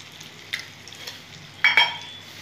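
Potato and tomato curry being stirred in a pan, with faint background sizzling and a few short scraping clinks of a spoon against the pan, the last one louder and nearer.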